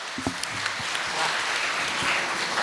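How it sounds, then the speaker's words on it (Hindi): A burst of audience applause at a poetry gathering, steady clapping from many hands filling the room for a couple of seconds. "एक बार तालियां बजा दीजिए"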